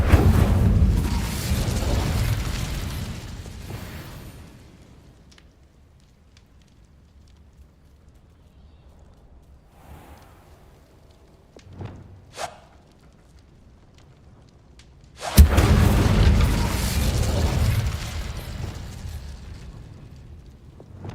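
The Incendio fire spell is cast in a video game, bursting out as a loud roaring whoosh of flame, twice: once at the start and again after a quiet stretch, with small pops and clicks in between.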